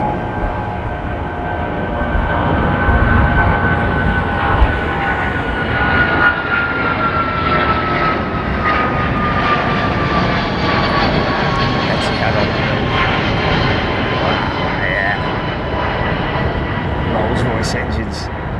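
A loud, steady roar of Rolls-Royce-powered British Airways Boeing 777 jet engines at London Heathrow fills the whole stretch, a broad rushing drone with a faint rising whine, with voices talking beneath it.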